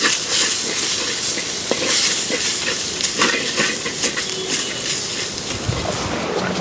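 Spices and ingredients for a snakehead fish curry fry in a hot pan, giving a steady loud sizzle with short scraping stirs throughout.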